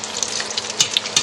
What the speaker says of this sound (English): This is really hot oil, so they should cook down.